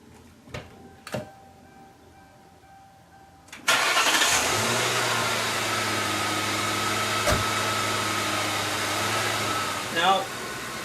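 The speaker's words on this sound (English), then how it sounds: "we want to start the engine and let it warm up" A car engine, just detailed and still wet, starts after a few clicks and knocks, catches with a burst, then settles into a steady, loud idle with a low drone while it warms up.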